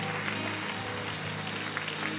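A church congregation claps in praise, a dense, steady wash of applause filling the whole moment at moderate loudness.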